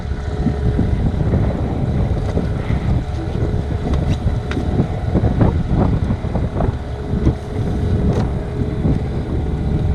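A motorized dinghy cruises across open water off the US Virgin Islands, its outboard engine droning steadily beneath loud wind buffeting and occasional splashing slaps, with no voices.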